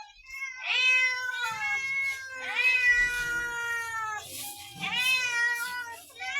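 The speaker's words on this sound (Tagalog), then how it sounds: "Daming pusa. Kayo mga pusa to." Several cats meow in repeated, drawn-out cries close by outdoors, a few overlapping wails rising and falling, with faint background rustle and no speech.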